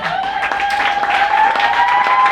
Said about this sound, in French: je m'attendais qu'on l'acclame plus fort